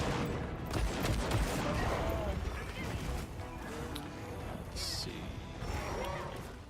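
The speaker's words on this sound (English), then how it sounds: "Cluster bomb." Cluster bomb explosions in the video game Vaultbreakers, a dense rolling series of crackling blasts and crashes running throughout, with someone talking over the gameplay.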